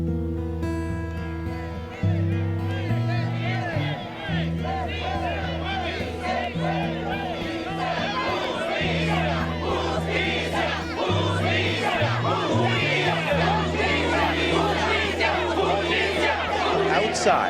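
A large crowd rallies outside the Prince William County Government Center, a sustained roar of many voices and cheers under a steady musical bed, continuing throughout.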